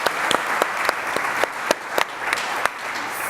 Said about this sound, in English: I have to give a huge round of applause to the marketing team